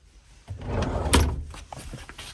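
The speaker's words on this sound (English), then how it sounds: "A nice drawer here." A drawer slides open inside a 2011 Pleasure Way Excel TD Class B motorhome, a single close, moderately loud rolling glide with light knocks and a brief clunk near the end, with no talking.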